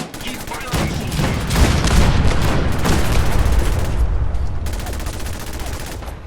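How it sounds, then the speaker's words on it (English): Cannons in the Fallout 4 video game fire in a rapid barrage of loud, close booms, blending into a continuous roar of gunfire that eases off toward the end. "Soldier, man the cannons. The cannons are ready. Fire at will."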